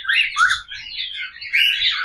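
A cockatiel gives a string of shrill, close squawks and chirps, several quick calls in a row with no other sound around them.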